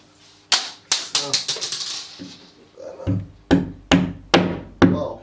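Sharp hammer strikes ring out in two bursts, a quick series of lighter taps followed by heavier, evenly spaced blows, close and loud.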